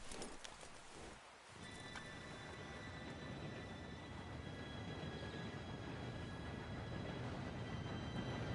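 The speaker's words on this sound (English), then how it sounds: "Train should be here any minute now." A steam train rolls into a station in the Red Dead Redemption 2 game, a steady, loud rumble with rhythmic clattering that fills the whole stretch, with a faint high whistle-like tone running through.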